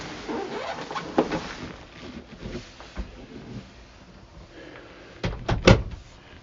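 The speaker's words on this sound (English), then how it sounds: "just open the door here" Close handling noises and clicks, then a cabin door latch clunks aboard a 2008 Cranchi Mediterranee 43 yacht and the door swings open with a couple of sharp knocks near the end.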